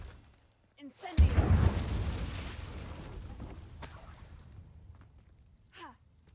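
An Incendio fire spell cast in Hogwarts Legacy, a sudden loud whooshing burst that rolls into a long crackling roar and slowly fades, with a voice speaking before and after.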